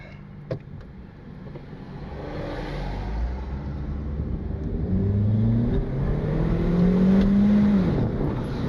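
A turbocharged Honda Civic R18 accelerates in first gear, its engine note rising steadily from a low rumble to a louder, higher rev over several seconds, heard from inside the car.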